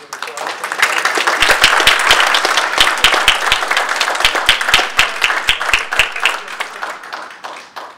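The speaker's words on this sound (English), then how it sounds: "for everyone to give her a round of applause" An audience at a talk on economic development breaks into warm applause, many hands clapping loudly and close, then thinning to scattered claps as it fades.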